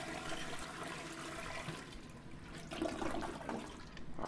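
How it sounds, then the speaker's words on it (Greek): In the horror game Dungeon Nightmares 2, a toilet flushes with a rushing gurgle that drains away into quieter trickling and bubbling water, heard alone at low level. "Αυτό ήταν καζανάκι."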